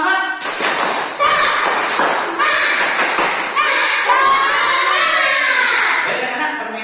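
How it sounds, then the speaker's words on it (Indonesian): A classroom of children performs a rhythmic spirit clap chant, loud shouted voices riding over bursts of clapping and thumping on desks, close and energetic throughout. "Tepuk semangat."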